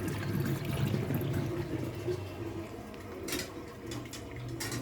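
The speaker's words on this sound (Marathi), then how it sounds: "पाणी चालू आहे जरा बंद करायला पाहिजे" Tap water runs steadily into a kadhai, a continuous close splashing hiss with a few brief higher splashes toward the end, no talking.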